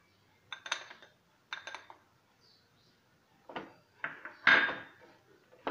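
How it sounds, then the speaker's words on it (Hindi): Crushed almonds scraped into ghee in a pan, a series of close dry scraping and clinking strokes in irregular bursts, with quiet gaps between them. "2 चम्मच घी डालेंगे। और इसमें हमने जो बादाम क्रश करके रखी है वो डालेंगे।"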